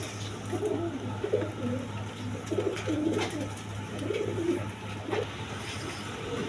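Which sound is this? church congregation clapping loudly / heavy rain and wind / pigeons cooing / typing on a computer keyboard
pigeons cooing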